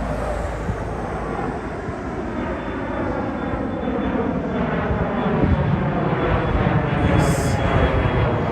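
A United Express Embraer E175 jet at a cold Toronto airport gives off a steady, broad engine roar that holds a constant level and swells slightly toward the end, with no talk over it.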